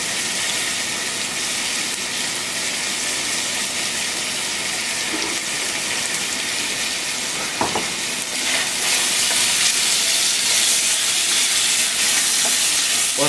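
Pancetta fries in a pan with a loud, dense hiss that runs unbroken, and a brief clatter partway through, as if the pan or a utensil were moved.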